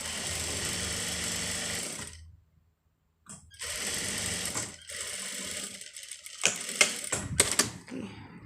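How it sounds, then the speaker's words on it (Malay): A sewing machine stitches a kurta seam in loud, fast rattling runs, stopping for a silent pause, then resuming in shorter bursts with clicks and handling knocks between them. "And then korang jahit."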